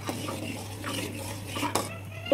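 Peanuts stirred into a simmering pot of tamarind pulihora make close scraping and clinking of a spoon against the vessel in a few uneven strokes, with a voice faintly present.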